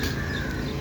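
Wild crows caw at a breeding ground in a 300-acre jungle, a dense wash of harsh calls over a steady hiss of ambient noise, with no voices.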